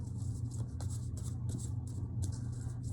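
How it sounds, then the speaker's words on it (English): Cards are shuffled by hand in repeated short bursts of crisp, papery riffling, close and steady over a low background hum. "This deck is kind of hard to shuffle through."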